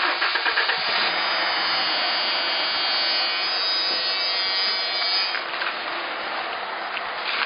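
Car engine running with STP fuel injector cleaner in the tank, the injectors suspected of going bad: a steady, loud, hissing drone that holds nearly constant throughout, with no one speaking.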